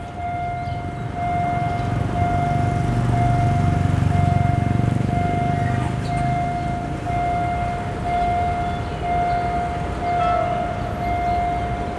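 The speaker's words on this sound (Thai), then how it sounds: "เสียงวีดมาแล้วนะน่าจะเป็นอันสตอม จากการฟังเสียงนะ" At a Thai level crossing near Khlong Tan station, a Prachinburi–Bangkok train sounds one long, steady horn that holds for many seconds over a low rumble, loud and sustained with no break.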